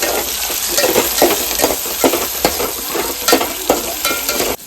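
Potatoes with curry leaves, chillies and tomatoes sizzle and fry in a pan while being stirred, with steady scraping strokes in a loud, close, continuous crackle and no talk.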